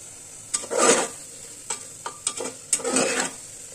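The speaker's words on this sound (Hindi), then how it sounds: "मसाले को अब अच्छी तरह से भून लेंगे मीडियम फ्लेम पे।" Spice masala roasting in a pan over a medium flame, with a soft steady sizzle broken by several close stirring and scraping strokes of a spoon against the pan, fairly quiet.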